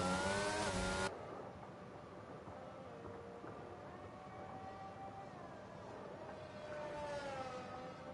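A race car pulls out of the pits in a Formula-style racing game at the French Grand Prix: a loud, brief engine roar, then a steady, whining engine drone that swells slightly toward the end.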